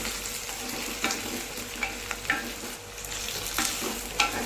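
Crushed garlic and onions sauté in a pan with a dense, close sizzle, punctuated by several scraping stirs that briefly swell the crackle.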